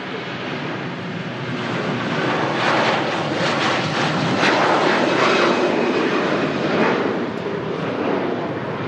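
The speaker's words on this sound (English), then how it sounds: "Virgin Atlantic A330 making its way across the pond to Atlanta. Enjoy this takeoff, guys." A Virgin Atlantic Airbus A330 takes off from Manchester Airport, bound for Atlanta. Its jet engines roar loud and steady, building to a broad, sustained thunder that stays constant throughout, with wind buffeting and no talk.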